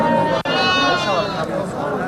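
Sheep bleat repeatedly at a busy livestock market in Bokhtar, with many overlapping, wavering calls filling the space close by while people talk and chatter underneath.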